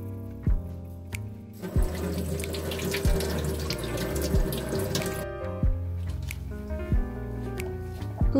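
Tap water runs steadily from a kitchen faucet into a sink while lemons coated with baking soda are rinsed by hand, with occasional splashes and squishing as the fruit is rubbed under the close, continuous stream.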